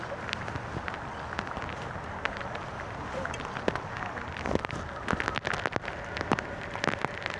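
Rain falls during the 5 Boro Bike Tour in New York, a soft, steady hiss with scattered sharp taps of drops close by.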